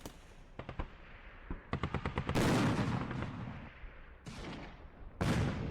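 Tank gunfire in the Arms Trade Tycoon Tanks video game: quick clusters of sharp shots followed by several heavy, booming blasts with rumbling tails, fairly loud and spaced irregularly.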